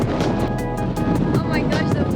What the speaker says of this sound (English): Oh my gosh, the wind, so strong.